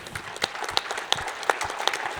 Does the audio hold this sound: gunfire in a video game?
no